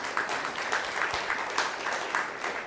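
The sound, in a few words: audience applause after a talk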